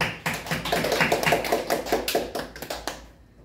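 A congregation at a Korean church service claps in a steady, fast rhythm of about a dozen close, crisp hand claps, then stops abruptly into quiet.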